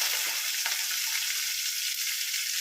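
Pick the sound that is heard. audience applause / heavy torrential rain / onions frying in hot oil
onions frying in hot oil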